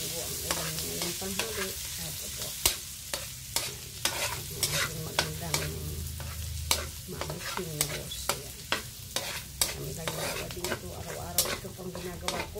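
Garlic fries in a wok, giving a constant close sizzle broken by frequent sharp scrapes and clacks as a spatula stirs it.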